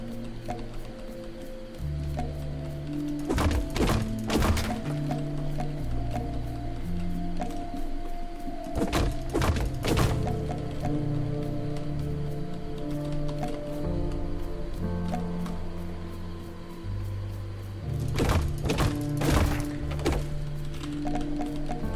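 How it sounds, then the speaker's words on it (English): Big tree being chopped down in the Drake Hollow video game, heard as repeated clusters of sharp thuds and crunching hits separated by quieter stretches of ambient game sound. "Can I destroy this tree? I can."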